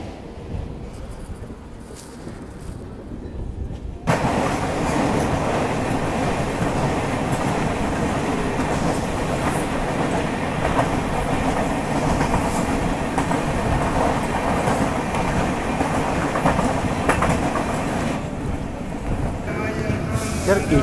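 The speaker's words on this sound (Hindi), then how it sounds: "बहुत ही स्लो रफ्तार में ट्रेन उन सबको क्रॉस कर रही है" The Mangala Lakshadweep Express crawls slowly over a crossing of the backwaters, heard from on board. After a few quieter seconds a loud, steady rumble and rattle of the carriages sets in and continues close and unbroken.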